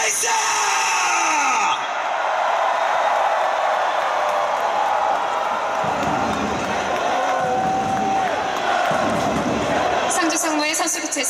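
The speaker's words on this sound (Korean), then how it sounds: "함성 발사!" A stadium crowd at an Incheon United versus Sangju Sangmu football match roars and shouts together on cue, a sustained loud mass of voices with rising yells and whoops, a stadium announcer's amplified voice heard over it.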